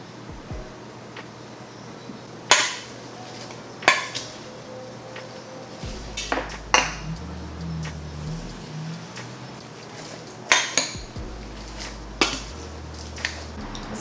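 Leeks, lemon slices and fennel tossed with olive oil and salt in a dish, scattered clinks and scrapes of a utensil against the dish over a low rumble, loud knocks spaced several seconds apart.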